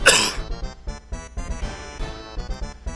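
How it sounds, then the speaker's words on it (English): A burst of coughing: one loud harsh cough followed by a rapid series of smaller dry coughs and throat sounds, close and unaccompanied by speech. "excuse me while I cough"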